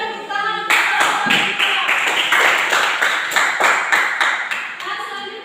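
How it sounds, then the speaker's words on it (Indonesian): A classroom group claps for the third group's presentation, a burst of brisk, fairly loud hand clapping in quick rhythm that swells and then tapers off. "Kita beri tepuk tangan untuk kelompok"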